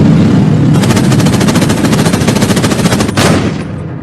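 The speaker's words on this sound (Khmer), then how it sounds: "លោកបាញ់ពីរគ្រាប់ហើយ" Loud, close gunfire in a rapid burst of shots that ends abruptly, followed by a short fading tail.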